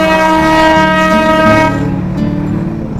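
A train passes close by near Gidda Pahar in Kurseong, its horn blaring in steady sustained tones over the rumble of the cars before trailing off.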